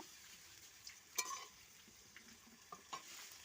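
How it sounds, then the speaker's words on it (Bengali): Vegetables frying in a pan for khichuri, a steady soft sizzle with a few sharp stirring clicks and scrapes, close and fairly quiet, no talking. "এগুলো খিচুড়ির জন্য ভেজে নিচ্ছি এই সবজিগুলো"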